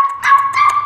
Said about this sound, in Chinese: 双血统的小母犬金毛